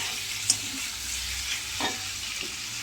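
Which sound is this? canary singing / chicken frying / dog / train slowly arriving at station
chicken frying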